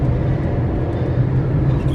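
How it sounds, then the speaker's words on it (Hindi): Steady road traffic rumbles through early morning in Gurgaon, a continuous low engine drone of passing cars with no breaks or clear individual events, heard from close by. "अनबिलीवेबल है कि गुड़गांव में सुबह सुबह 5:30 बजे भी इतना ट्रैफिक होता है।"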